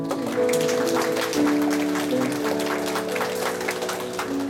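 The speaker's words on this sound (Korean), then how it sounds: "우리 일어서신 분들 위해서 박수 한번." Church congregation applauding during a youth group service, steady clapping under sustained organ or keyboard chords played throughout.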